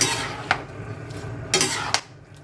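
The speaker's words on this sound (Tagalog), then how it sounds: "Mix natin ng mabuti." Squid balls are stirred in a pan while cooking pancit bato from Bicol, giving a few sharp metal scrapes of utensil on pan over a soft sizzling background.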